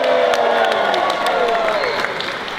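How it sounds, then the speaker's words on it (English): A school audience cheers and whoops on cue during a play, a dense crowd roar with scattered whistles and clapping holding steady, loud and close throughout. "Let's hear all of you cheer."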